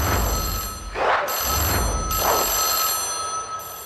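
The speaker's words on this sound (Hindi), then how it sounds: "तुम्हें फोन की आवाज सुनाई दे रही है?" A telephone rings in repeated electronic bursts with short pauses between, steady and fairly loud against a low background hum.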